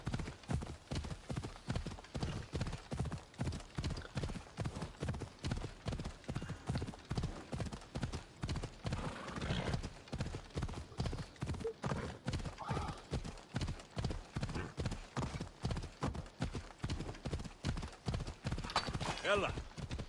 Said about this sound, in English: Just trying to find the most direct route on the horse